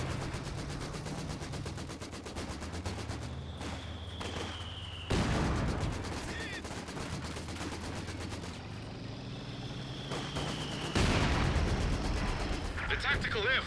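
Mortar shells and machine gun fire in the Company of Heroes 2 strategy game, with sustained rattling bursts and heavy booming impacts near 5 and 11 seconds, mixed with steady game noise and a commentator talking throughout.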